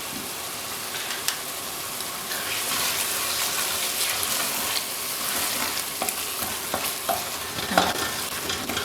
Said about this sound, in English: I have been stir frying this sauce for good 10 minutes by adding a tiny little dash of water